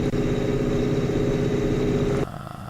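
A tractor engine idles loud and close in a steady low throbbing rumble, then cuts to a much quieter, muffled level near the end.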